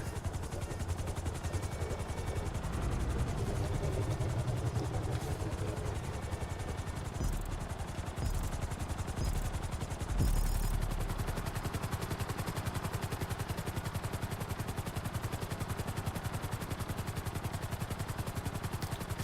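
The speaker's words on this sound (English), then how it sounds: "Frogger's not a bad little chopper" Frogger helicopter from a video game in steady flight, a continuous rotor drone and rushing wind holding level for the whole stretch, with a few faint clicks and bumps.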